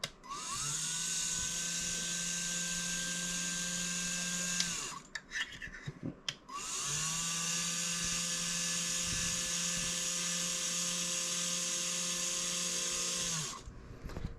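Actuator motor on a Tamiya 1/14 Volvo FH16 750 Globetrotter R/C tow truck, running in two long steady high-pitched whines separated by a brief pause, close and clear with no talk.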